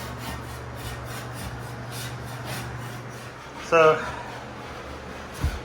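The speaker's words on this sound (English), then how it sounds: "getting all the drywall up off the floor that was dripped" Dried drywall compound being scraped up off a floor in a room under renovation, heard as faint rhythmic rasping strokes beneath a steady air-conditioner hum, with a louder clatter partway through and a brief voice.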